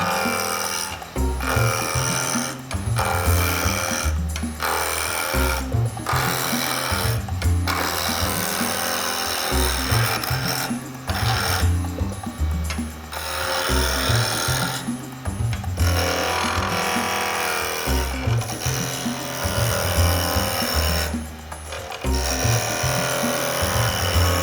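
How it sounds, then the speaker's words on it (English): Wooden spinning top turning on a lathe, a steady loud whirring hum with a rough scraping, rubbing texture, broken by repeated short pauses and restarts throughout. "So let's do that on the lathe now."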